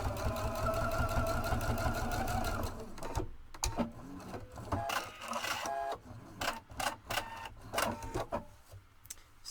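A domestic sewing machine stitches in the ditch along a pressed quilt seam, whirring steadily at first, then running in shorter stop-start bursts close by.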